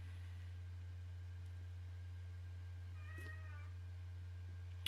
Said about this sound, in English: Oh, you could definitely hear the cat.